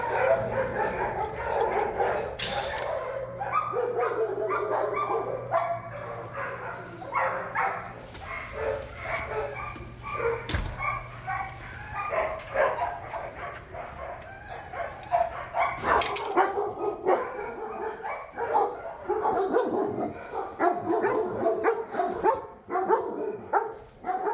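Several dogs bark, yip and whimper in an echoing space, a mix of near and distant voices overlapping continuously with clanging and background noise.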